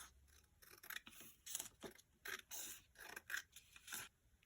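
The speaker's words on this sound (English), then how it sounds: "So I'm just going to use my scissors" Scissors snip and scrape through paper in a quick irregular series of short crisp cuts, close by and fairly quiet.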